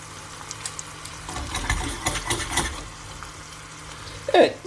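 Eggs frying in a pan with braised meat, tomato and pepper, a soft steady sizzle with a few scrapes and clinks of stirring, ending in a brief louder clatter.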